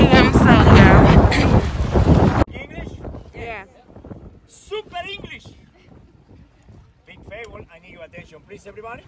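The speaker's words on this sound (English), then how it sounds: "We about to drive our speed boats" A loud roar of a speedboat engine and rushing wind on the water near Cancun fills the first seconds, then cuts away to people talking over quieter background noise.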